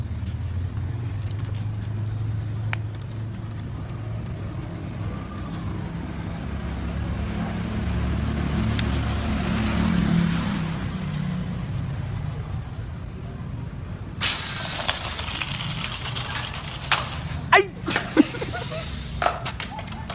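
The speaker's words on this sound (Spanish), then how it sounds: "Ese es mi prototipo de carro impulsado por agua y aire" A homemade toy car prototype powered by water and air runs over a low background rumble, then lets out a sudden loud hissing spray in the second half, followed by a few sharp clicks.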